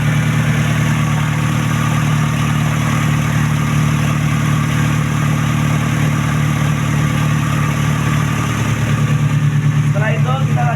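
A car engine idles steadily through a hands-on vehicle inspection, its low continuous hum close and constant, with a faint revving change near the end.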